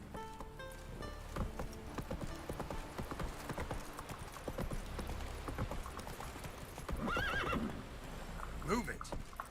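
Hooves of Roach, a horse in The Witcher 3, drum in a quick galloping clip-clop, and a loud whinny rises near the end over a game soundtrack, with a voice speaking briefly.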